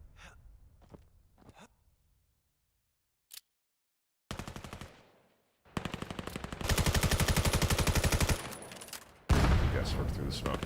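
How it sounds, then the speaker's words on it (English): Gunfire from the VAIL VR shooter game: a few faint scattered pops, then a single sharp shot, followed by bursts of rapid automatic fire and a long sustained volley, loud and close near the end. "They'll get shot by Buckshot."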